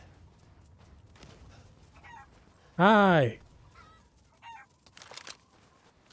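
A chicken in the horror video game Resident Evil Village lets out a loud, squawking cluck at close range, followed by a few fainter clucks, with a brief spoken greeting.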